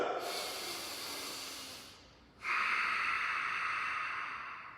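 Deep belly breathing close to the microphone: a long, airy inhale, a short pause, then a strong, hissing exhale that fades out slowly.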